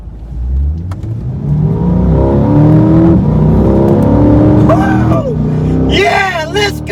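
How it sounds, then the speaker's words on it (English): A Chevrolet C8 Corvette Z51 accelerating hard, its engine loud and close, the tone climbing through the gears in a steady rising roar, while excited voices whoop and shout near the end. "This car acceleration is so quick."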